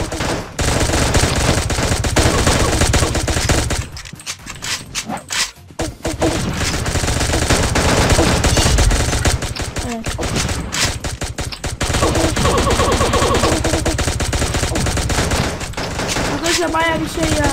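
Rapid automatic gunfire from the mobile shooter game Pixel Gun 3D, loud sustained bursts with brief pauses, heard under a player talking.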